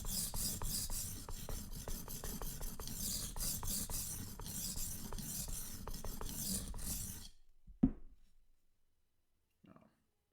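A knife edge is worked on Suehiro and DMT whetstones at about 600 grit, a close rhythmic raspy grinding in quick repeated strokes that stops near the end, followed by a clack and brief quiet handling.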